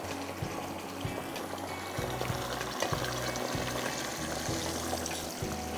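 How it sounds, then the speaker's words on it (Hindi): A small amount of water poured into a cooking pan while preparing a potato and chicken dish with ginger-garlic paste, a steady pouring and sizzling wash running throughout with no talking. "थोड़ा सा पानी।"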